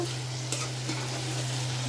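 Chicken pieces for a pulao-and-chicken curry frying in a pan, a close, continuous sizzle with a steady hum beneath and a couple of brief stirring knocks, and no talk.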